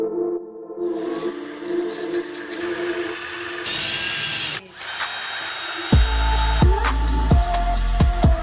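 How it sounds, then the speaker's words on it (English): A power drill whines steadily while making a small hole for eyelets in a homemade Christmas ornament, then switches to short bursts and stops, alone and close. "So we drilled the hole"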